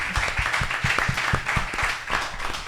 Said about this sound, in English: Please, a round of applause for their work.